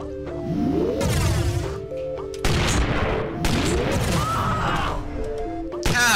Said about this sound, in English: Ah, you died to your own explosion.